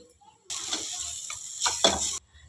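Vegetables and flat beans cook in a hot pan with a burst of sizzling and stirring that starts abruptly, crackles on for under two seconds and then cuts off.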